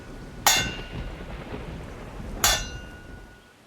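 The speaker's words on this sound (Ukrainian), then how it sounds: "Перший теплий дощик і гуркіт грому." Two sharp cracks of thunder about two seconds apart, close and loud, over a steady soft wash of warm spring rain.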